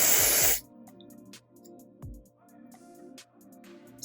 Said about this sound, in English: Gonna spray a little bit more to secure it.